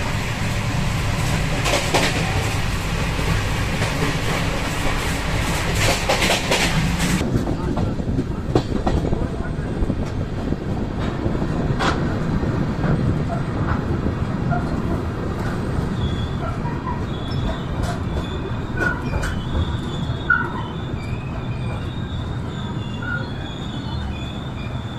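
The Mysore Shatabdi Express runs on the rails as it reaches Katpadi Junction, with loud sustained wheel squeal and rolling clatter heard from on board, steady and close for the whole stretch.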